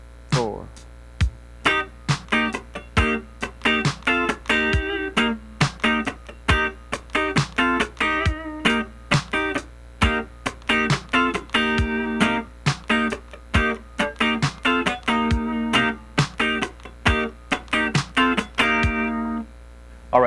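A funk rhythm guitar part is played slowly on an electric guitar, with crisp muted chord stabs and choppy strums in a steady syncopated groove over a low amp hum, with no other instruments.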